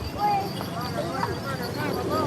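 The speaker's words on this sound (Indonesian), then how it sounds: "Oh, delman." Hooves of a horse pulling a delman cart clip-clop on a town street in Kuningan, a fairly steady near rhythm under children and adults talking and general street noise.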